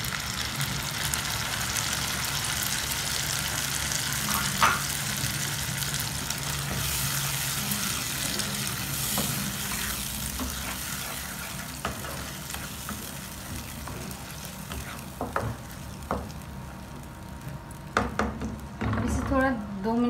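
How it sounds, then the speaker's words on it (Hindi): Spice paste sizzles with softened onions in a pan for an egg curry, a steady frying hiss broken by stirring scrapes and clinks of the spoon against the pan. "अब हम मिक्स किया हुआ पेस्ट को डाल लेते हैं"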